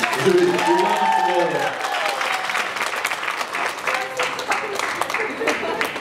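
A crowd at the Korolef Fitness flexibility cup breaks into loud, sustained applause after a brief stretch of voice at the start, the clapping dense and continuous to the end.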